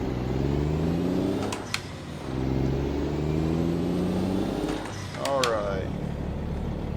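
A used, abandoned Mack R truck in American Truck Simulator, its engine a low rumbling drone that rises with acceleration, dips briefly between gears, then climbs again, with a voice talking over it.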